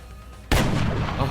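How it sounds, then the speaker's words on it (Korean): Gunfire in the turn-based strategy game XCOM Long War: a single loud, sharp shot bursts in after a quiet moment, followed by a sustained rumbling, crackling tail that stays strong to the end. "양반들이 총을 너무 대충 쏘고"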